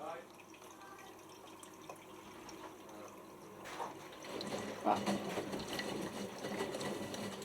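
Miele W5000 washing machine on its first rinse cycle, water running and filling in a steady wash, growing louder midway with sloshing, under people talking nearby.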